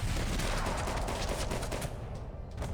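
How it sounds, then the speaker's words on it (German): Rapid freehand gunfire in the shooter game Max Payne 3, a dense, loud, continuous volley of shots with no pauses, thinning slightly near the end. "Freihand schießen."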